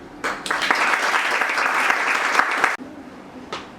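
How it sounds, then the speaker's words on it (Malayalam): An audience claps in loud, dense applause for students who passed their Plus Two exams at an accounting institute, sustained for over two seconds before stopping abruptly, then a brief final burst of clapping. "അവർക്ക് വേണ്ടി വലിയൊരു ക്ലാപ്പ് നമുക്ക് ആദ്യമായിട്ട് കൊടുക്കാം"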